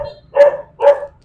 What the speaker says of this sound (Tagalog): Laki ng aso. Yan, nagwawala.